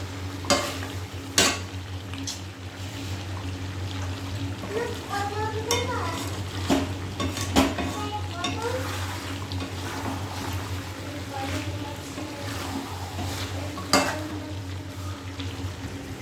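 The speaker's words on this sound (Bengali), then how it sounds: "আবার একটু নাড়া দেবো।" Food sizzles in a frying pan while a utensil stirs and scrapes it in irregular strokes, with occasional sharp metallic knocks against the pan under steady frying noise and brief faint voices.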